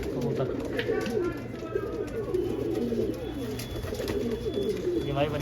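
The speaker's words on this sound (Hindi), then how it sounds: "और दोस्तों ये देखो जी कबूतर।" Desi pigeons kept in a flat coo steadily and close by, with soft overlapping burbling calls running throughout, and no clear talk over them.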